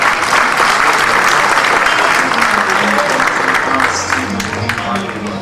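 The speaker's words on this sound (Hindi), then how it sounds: "इनके लिए जोरदार तालियां हो जाए" Loud, dense applause from a live stage show audience for a tabla player, continuous clapping that holds steady then eases slightly at the end as a low tone enters.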